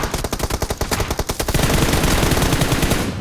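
Rapid automatic gunfire in PUBG Mobile, a loud, evenly spaced string of sharp shots for about a second and a half, then blending into a denser continuous crackle of fire.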